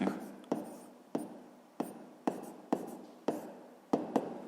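Pen or chalk writing out a sixth-grade math solution, a steady scratchy stroke broken into about eight short strokes that each start sharply and fade, close by with no voices.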